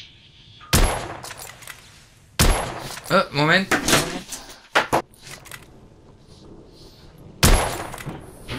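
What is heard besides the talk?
gunshots in The Order 1886 video game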